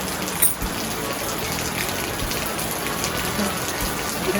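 Steady rain falls outdoors at a campsite, a dense, even hiss of drops that continues without break for the whole stretch, fairly loud and close.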